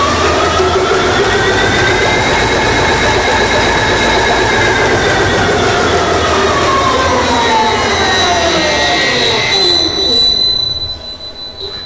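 A shock absorber test rig runs a constant-speed test, driving the damper to a peak of 1.3 m/s. It makes a loud, continuous mechanical roar with shrill, sweeping whines and squeals that cut off abruptly near the end.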